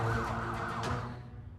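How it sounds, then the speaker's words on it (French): Ambulance siren wailing up and down, moderately loud and fading toward the end, with a low steady rumble underneath and no voices. "L'ambulance arrive, ne vous inquiétez pas."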